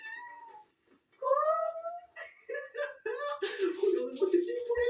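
Small cats in a studio meow in a series of clear, close, high-pitched calls, some drawn out and some short, with a person talking and rustling around them.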